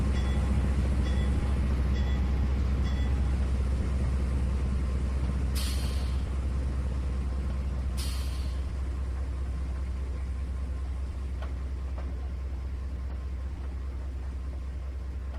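A train in the simulator game Trainz 2019 pulls out of Bloomfield station toward Lewiston, with a continuous low rumble, a couple of brief hissing air bursts and faint clanks.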